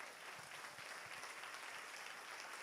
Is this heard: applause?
yes